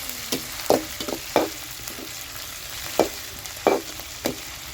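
Tomatoes going into hot oil with fried onions and ginger paste for a brinjal curry, giving a steady low sizzle broken by several sharp spoon scrapes and clinks against the pan at uneven intervals, close and without speech.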